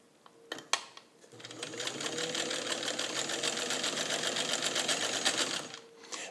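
Kenmore 117.55 rotary sewing machine, freshly serviced, stitching ballistic nylon and backtacking: a few faint clicks, then a steady, fast mechanical whirr and rattle lasting several seconds before it stops.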